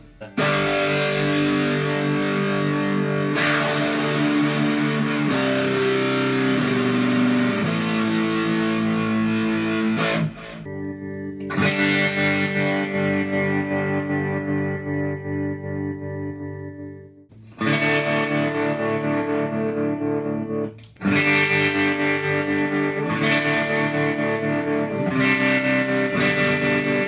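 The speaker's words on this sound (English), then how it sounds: "That drive setting, it's got a little reverb on there." Electric guitar played through a Boss MS-3 multi-effects unit on a drive setting with a little reverb, sustained distorted chords ringing out continuously with brief decays between strums, loud and alone.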